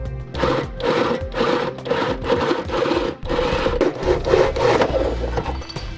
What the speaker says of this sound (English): we'll go ahead and drill out using a 1 1/8 inch hole saw